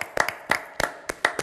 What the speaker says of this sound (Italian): ci possiamo fare anche un bel applauso